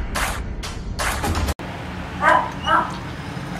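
Dogs at an animal welfare shelter in the Philippines bark twice in quick succession, sharp and fairly close, after a stretch of rustling, broadband noise.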